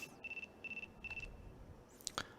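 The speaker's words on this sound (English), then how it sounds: "Bond's phone began to ring." A phone rings in the Chaos;Head Noah video game: three short bursts of bright electronic ringtone pulses, followed by a sharp chime, with no talking.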